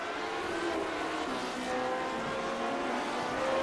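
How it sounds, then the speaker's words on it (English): Classic Lotus Grand Prix race cars in the iRacing sim at Tsukuba Circuit stream down the front straight in a close pack, a steady, loud, continuous engine drone with shifting tones as several cars pass together. "quite a string of cars we're watching there as they come onto the front straightaway"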